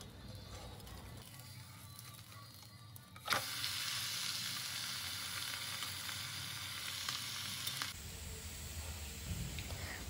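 Pancake for a healthy breakfast frying in a little oil in a covered pan, a steady close sizzle that jumps louder after a clatter partway through and then carries on without pause.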